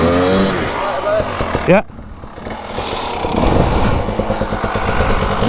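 A KTM 150 enduro motorcycle revving on a hard enduro ride in extreme terrain, the engine buzzing and rising in pitch nearby, with people talking over it.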